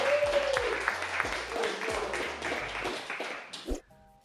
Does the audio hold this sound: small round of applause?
yes